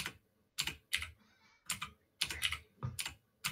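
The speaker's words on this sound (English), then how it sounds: "Your keyboard." Rapid typing on a computer keyboard comes in several quick bursts of close, crisp key clicks separated by short pauses, with no talking.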